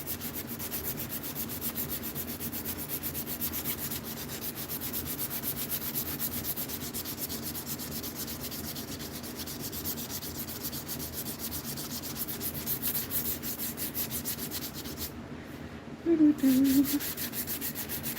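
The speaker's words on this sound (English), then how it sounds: "So much sanding." Continuous rhythmic sanding of wood for a knife, a steady abrasive scrubbing that runs throughout, with a brief pause and a short vocal sound near the end.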